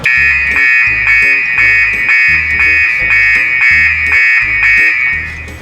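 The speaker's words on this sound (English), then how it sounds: "that's the alarm to tell you whether it's full or not full" An air tank alarm on a fire rescue truck sounds continuously: a loud, steady electronic tone pulsing in a regular rhythm, close by, with no talk over it.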